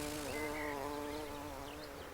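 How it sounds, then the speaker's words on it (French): A buff-tailed bumblebee, Bombus terrestris, buzzes steadily in flight, a close continuous hum lasting a couple of seconds. "son popotin tout blanc qui se dandine dans les airs au rythme de son bourdonnement"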